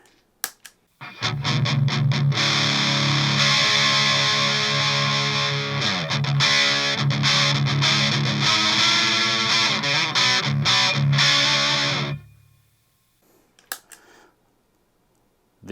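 Electric guitar driven through a Fulltone OCD overdrive pedal, a sustained crunchy distorted riff with chugging palm-muted hits and ringing chords for about eleven seconds, then cutting off to near silence with a few stray string noises.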